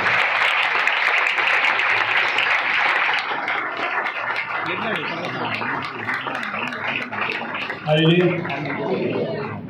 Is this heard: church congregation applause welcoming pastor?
yes